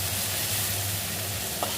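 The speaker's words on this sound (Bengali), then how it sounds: "পোস্তটা তেলের মধ্যে ছেড়ে দিলাম পোস্ত ভালো করে এবার নাড়াচাড়া করে তেলে ভেজে নিচ্ছি" Poppy seed paste sizzles in hot oil as it is stirred, a close, steady frying hiss with a brief scrape of the spoon near the end.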